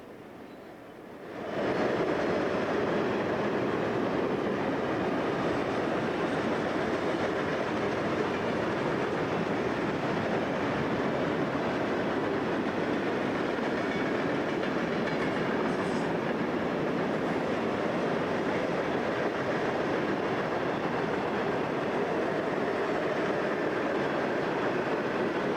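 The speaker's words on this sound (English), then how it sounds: "This long train has quite a mix of traffic, from paper, feed grain, and auto parts to empty tank cars and covered hoppers" A long Union Pacific mixed freight train of paper, feed grain and auto-parts cars, empty tank cars and covered hoppers rolls past by the Mississippi River, a loud, unbroken rumble and roar that begins abruptly and holds steady.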